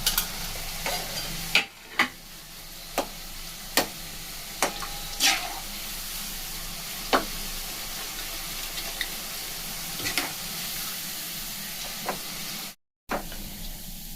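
Homemade sweets styled after Bardhaman's Sitabhog fry in slightly cooled oil, giving a soft steady sizzle broken by scattered clinks and scrapes from stirring, with a brief silent gap near the end.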